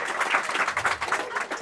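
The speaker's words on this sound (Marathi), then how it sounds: "टाळ्या, जोरात टाळ्या होऊ दे." Applause from students at a reunion of a 2004 tenth-grade school batch, a dense patter of clapping that holds steady through the short stretch with no talk over it.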